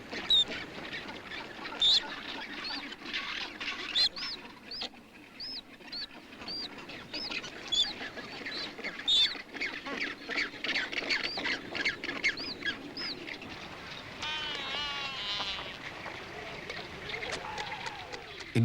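Rockhopper penguin colony on the Penguin Islands, with black-browed albatrosses nesting nearby, calling in a dense chorus of harsh squawks and brays, some near and loud, over a continuous background din and surf-like wash.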